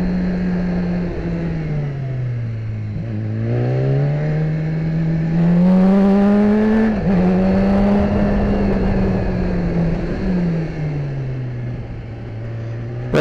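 A BMW S1000RR motorcycle in race mode accelerates hard, its engine note climbing, dipping and climbing again through the revs as a loud, close, continuous whine. No voices are present.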